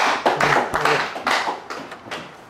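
Audience applause at a Korean Confucian studies seminar, a burst of fairly loud, dense clapping for about two and a half seconds that tapers slightly toward the end.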